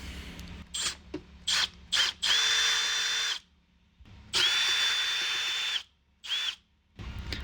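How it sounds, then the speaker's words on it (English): An Allen head bolt is being removed on a 2017 Honda Rebel 300. A powered driver whines in several short bursts and two longer runs, separated by clicks and quiet gaps. "And I gotta take this off with the Allen wrench."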